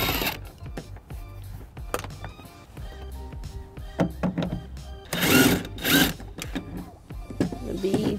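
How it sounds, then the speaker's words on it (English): Mechanical clicks and ratcheting from a tool loosening a bolt on a side panel of a 2005 Pontiac Aztek, with close, intermittent metallic ticks, rattles and a couple of louder grinding bursts. "taking off the bolt"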